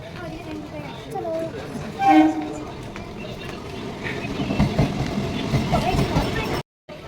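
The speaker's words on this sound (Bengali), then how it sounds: "ট্রেন আসছে আসছে চলে এসছে ব্যান্ডেল লোকাল" A Bandel local passenger train pulling into a station on a hot day, a low rumbling approach with a brief horn-like tone and rising mechanical noise, heard amid background chatter on the platform.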